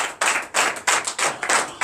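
A church congregation at a night deliverance and prophecy service claps in acclamation, bursts of rhythmic group clapping in quick regular pulses, close and fairly loud.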